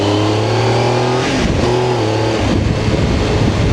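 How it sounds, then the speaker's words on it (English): A Triumph Tiger motorcycle engine revs close by as the clutch is let out on a ride toward a roundabout, with a steady loud drone whose pitch drops and then climbs again under wind noise. "Let the clutch out, RB, let the clutch out."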